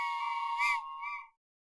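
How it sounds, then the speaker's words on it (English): A whistle sound effect plays on a live stream, a single clear, steady tone lasting just over a second with a slight warble near the end before cutting off to silence, no talking. "figured out how to play the whistle"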